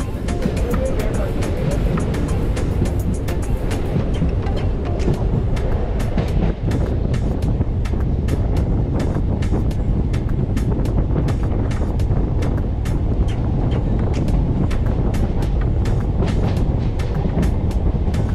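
Inside a train bound for Thiruvananthapuram Central in Kerala, a loud, continuous rumble mixes with wind buffeting and a steady run of sharp rail clacks. Voices murmur faintly underneath.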